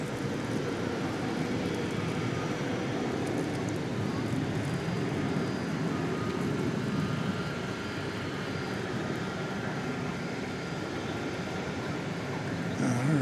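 American Airlines Airbus A321 airliner, flight 1764, at DFW Airport at night, a steady sustained engine roar holding at an even level throughout, distant and continuous with no talk.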